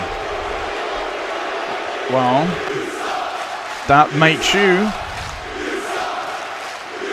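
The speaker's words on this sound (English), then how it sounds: "you sit there in your seats booing me" A crowd in the WWE 2K25 video game arena keeps up a steady wash of booing and jeering, with someone talking loudly over it.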